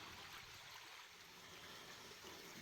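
A small mountain stream flows right beside a hiking trail in the foothills, a faint, steady wash of running water with no voices over it.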